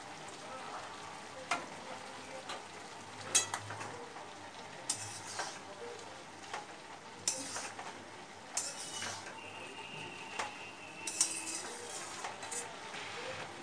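Ash gourd is stirred in a pan with turmeric and sugar while cooking, a soft simmering hiss under occasional scraping and clinking of a spatula against the pan, with a few sharper knocks.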